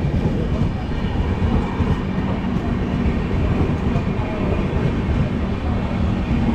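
A Garib Rath express train, made up entirely of economy compartments, rumbles along on the rails with steady, loud wheel noise and a continuous rolling clatter throughout.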